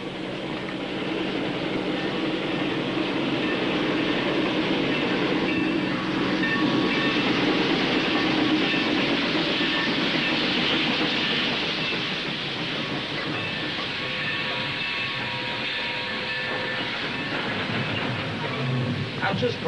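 A train moving along the tracks, with a loud, continuous rumble and rattle of railroad cars and faint clickety-clack throughout, close and steady with no break.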